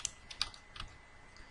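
Keys tap on a computer keyboard while a Microsoft Word 2016 document is typed, a handful of light, uneven clicks spread over a quiet background.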